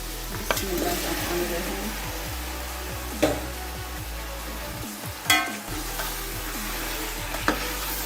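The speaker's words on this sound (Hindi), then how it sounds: "और इसे अच्छी तरह भूनेंगे तकरीबन 8 से 10 मिनट इसको भूनेंगे।" Chicken pieces sizzling and frying in a pan for degh-style shahi chicken korma, a steady broadband hiss with occasional louder crackles and stirring clanks, close and continuous without talk.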